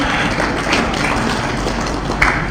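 A crowd at a sermon breaks into dense, continuous applause that forms a sustained wash of clapping, loud and even throughout, with one sharper burst near the end.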